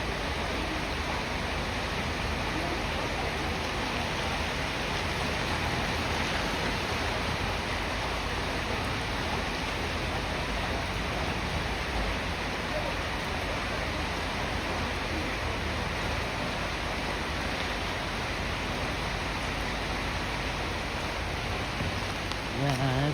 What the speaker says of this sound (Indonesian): Hujan berkat.